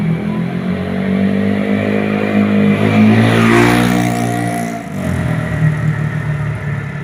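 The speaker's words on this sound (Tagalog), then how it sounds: "Napakaingay ng motor na yun mga kaidol, tambutso." A loud motorcycle with a noisy exhaust pipe roars past close by, its engine rumble swelling to a peak mid-way and then fading, with other traffic continuing underneath.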